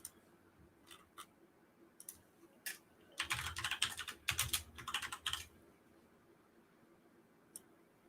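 Fingers type on a computer keyboard in a quiet room, a few scattered keystrokes building into a fast dense burst of clicking, then trailing off to a single late tap.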